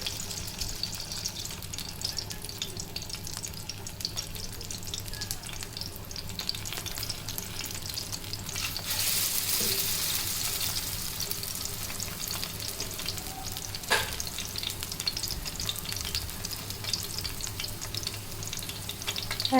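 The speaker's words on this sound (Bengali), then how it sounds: "তেলটা গরম হয়ে গেছে, এখন পেঁয়াজগুলো দিয়ে দিচ্ছি।" Onion fritters (piyaji) frying in hot oil in a pan, a steady close crackle and sizzle with a louder bubbling surge midway and occasional scraping stirs.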